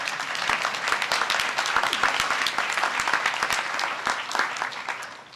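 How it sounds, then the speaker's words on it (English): Sustained, crisp applause from a gathered audience at a White House event on equal pay and workplace flexibility, with many individual claps audible throughout. "How about a round of applause for our audience?"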